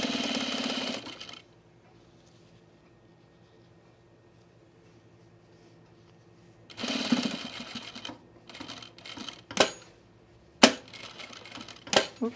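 A sewing machine stitches waterproof jacket fabric in a loud burst, falls quiet for several seconds, then returns in short uneven runs and sharp clicks.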